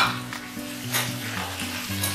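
Spice paste for a crab curry hits a hot pan, sizzling steadily while a spoon scrapes and stirs in repeated strokes, close and fairly loud with no talk.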